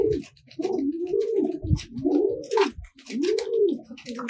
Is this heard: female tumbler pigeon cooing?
yes